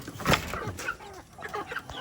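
Large farm turkeys calling with a few short gobbling, clucking sounds, close by and alone, with faint rustling outdoors on a rainy day.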